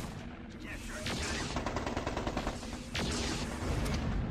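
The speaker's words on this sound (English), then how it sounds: "Having those SRM turrets is going to really finish this guy off pretty quick." SRM turrets in the video game MechCommander 2 fire at an enemy mech, giving rapid bursts of missile and gun reports over a dense rumble of battle, with a voice talking throughout.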